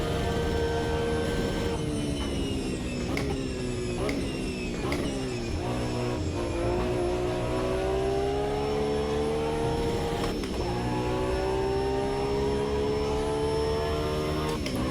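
Race car engine in Automobilista 2 screaming near the rev limiter, loud and continuous, with rising and falling harmonic sweeps as it shifts and revs through corners.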